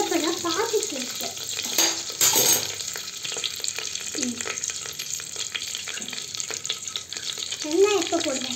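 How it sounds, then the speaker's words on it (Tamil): Cinnamon, cardamom and bay leaf sautéing in hot oil in a pan, a continuous close sizzle and crackle with occasional stirring scrapes and clatter, without talk. "பட்டை, ஏலக்காய், பிரியாணி இலை இதெல்லாம் வதங்கிடுச்சு"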